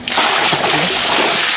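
Clams dropped into creek water throw up a loud, close splash that settles into sloshing and splattering for about a second and a half, with no voices.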